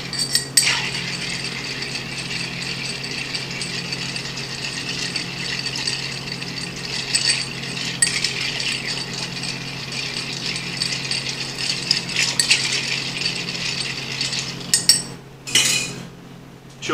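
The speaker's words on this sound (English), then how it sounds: "And we're gonna ice it up and stir," Ice rattling and clinking as a cocktail is stirred in a mixing glass, a fast continuous jingle of cubes against glass and spoon, close and steady for about fifteen seconds, with no talking.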